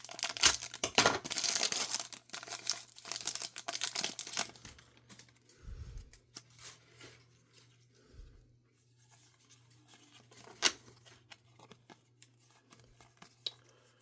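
A Donruss basketball card fat pack wrapper is torn and crinkled open close by, dense rustling and crackling for the first few seconds, then quieter scattered crinkles and handling noises, with no talking.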